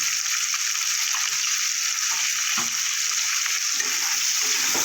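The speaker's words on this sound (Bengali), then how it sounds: "আলুটা আমার অনেকটাই ভাজা হয়ে গেছে" Potatoes fry in hot oil in a pan, giving a steady, close sizzle with occasional scraping stirs throughout and no talking.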